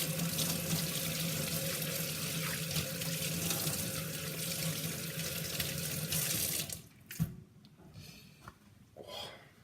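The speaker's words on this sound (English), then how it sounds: "We wash our hands" Hands washed under a running kitchen tap, a steady close rush of water for several seconds, then the flow stops, followed by a few drips and soft handling sounds.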